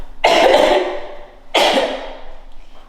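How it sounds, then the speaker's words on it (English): Two sharp, loud coughs a second or so apart, close up, each trailing off with a short raspy tail; no talking. "I don't know why this season always make me cough"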